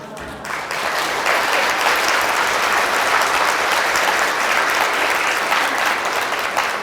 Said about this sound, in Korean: 근데 박수도 요때 치는 거예요.